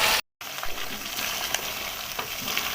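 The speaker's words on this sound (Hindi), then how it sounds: "चिकन को हम तकरीबन 4 से 5 मिनट के लिए फ्राई करेंगे।" Chicken fries for biryani in a hot pan, giving a steady close sizzle with light crackles and occasional stirring clicks, after a brief gap near the start.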